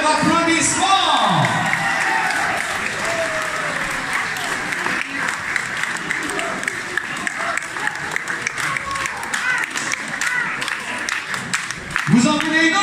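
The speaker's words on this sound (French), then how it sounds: "Faites-lui un tonnerre d'applaudissements" Crowd at a French dance-hall ball applauds a singer from Nièvre with sustained, loud, dense clapping, scattered cheers and whoops, and voices mixed in throughout.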